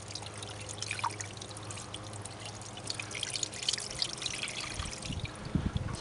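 Cold water pours and trickles over a hot truck engine's electronic module, a soft, steady splashing stream that runs for several seconds with a few drips near the end.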